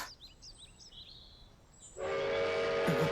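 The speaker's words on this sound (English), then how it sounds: "There's your train." Birds chirping faintly, then an anime train rushes in abruptly, its loud, steady rumble and squealing wheels filling the rest of the clip, with a horn-like tone near the end.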